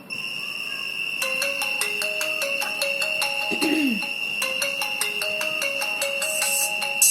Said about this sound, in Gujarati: જેવું મોબાઈલમાં રિંગ આવે છે